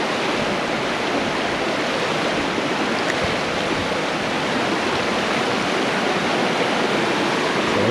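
Mountain stream in the Green Mountain National Forest of Vermont, rushing steadily and loudly as a dense, unbroken wash of water with no voices.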